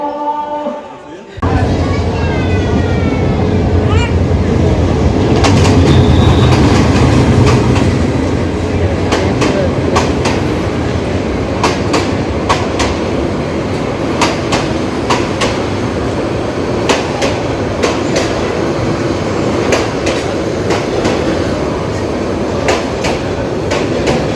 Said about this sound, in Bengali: এই ট্রেনটা ঢাকা থেকে এসে যাচ্ছে আন্তনগর, বিশাল বড়